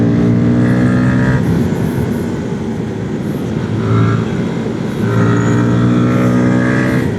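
A Voge FR150 motorcycle fitted with a TuneBoss ECU roars loudly and close during a wheelie, its engine note rising and falling with throttle changes and steady wind rush throughout.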